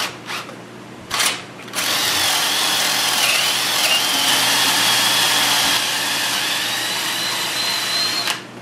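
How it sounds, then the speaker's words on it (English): A power drill whines loudly and steadily for most of the stretch, boring holes with brief starts and stops near the beginning and a cutoff at the end; no one talks over it. "I've got my 3 holes drilled"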